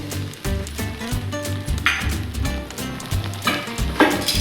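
Poha is stirred with spice mix in a hot pan, giving a steady sizzle with repeated scraping strokes of the spoon and occasional clinks against the metal.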